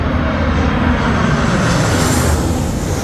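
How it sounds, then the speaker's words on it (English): Airplane passing overhead in San Diego, heard during a trolley tour, as a steady, loud broadband engine roar that fills the whole stretch without pause and with no talking. "Look at that plane."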